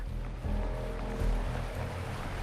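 Waterfall rushing in Wuthering Waves, a steady low roar of falling water with swelling surges and a broad rumbling wash, no talk.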